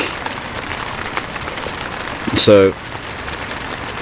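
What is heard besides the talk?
rain falling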